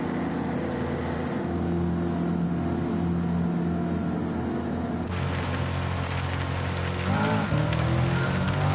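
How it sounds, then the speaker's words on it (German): Race car engine and steady rain hiss in Gran Turismo 7 during a wet race, a continuous loud drone with a shift in tone midway and a brief revving swell near the end. "Nein, ich finde es nicht so prickelnd, dass es regnet"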